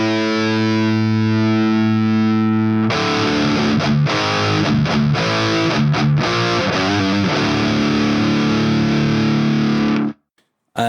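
High-gain distorted electric guitar through the Audiority GrindStein plugin, a sustained buzzing chord followed by chugging, choppy riffing with a noisy hiss underneath, loud and close, stopping abruptly near the end.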